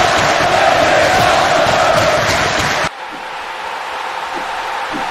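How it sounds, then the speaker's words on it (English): A Roblox WWE arena crowd roars and cheers at a Monday Night Raw show in Lincoln, NE. The loud, dense crowd noise drops abruptly to a quieter, thinner level midway. "There is nothing more awesome than what's going on in this ring as this crowd is going berserk."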